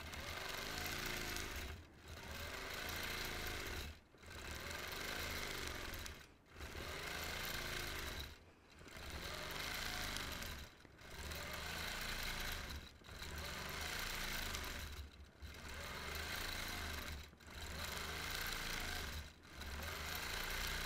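A sewing machine runs steadily during freehand quilting of an orange peel pattern. Its motor buzzes in sustained bursts of about two seconds with brief regular pauses between them, close and loud, and no one speaks.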